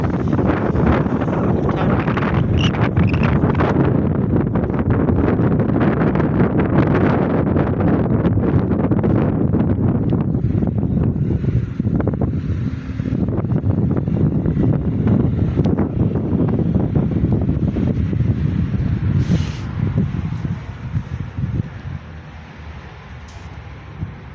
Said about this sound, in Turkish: videoda izliyorum burada nasıl rüzgar sesi geliyor